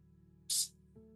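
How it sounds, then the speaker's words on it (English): One quick, sharp hiss of a spray bottle, a brief pump-mist burst standing out against a quiet background hum. "I'm going to spray it with protection"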